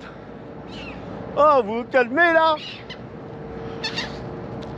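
A short burst of shrill seagull calls, close and loud, rises and falls in two quick clusters, then a fainter call follows while someone speaks.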